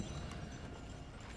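Horse hooves clip-clopping in the video game Red Dead Redemption 2, a faint, quick run of muffled hoofbeats over low rumbling background for just over a second.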